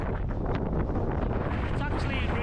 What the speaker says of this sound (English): The wind's really got up now.